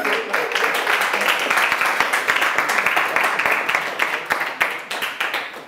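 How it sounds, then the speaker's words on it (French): Audience at a keynote event clapping in a steady, dense round of applause that holds at full strength for the whole stretch with no voices over it. "Je pense que vous pouvez vous applaudir"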